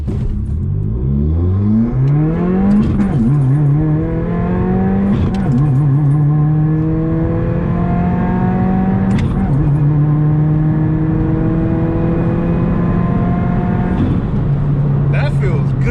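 A 2018 Subaru WRX in track mode pulls hard on a launch-control start, its engine note climbing through repeated gear changes with brief dips between shifts, loud and close from inside the cabin while occupants talk over it.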